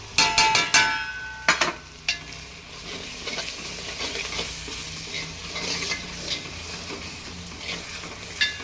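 Mutton fries with homemade Khandeshi black masala and red chilli powder in a traditional brass pot, opening with loud metallic spoon clanks against the pot, then a steady close sizzle with occasional stirring scrapes.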